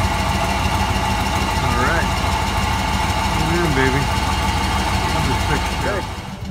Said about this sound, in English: we got the old Tahoe up and running again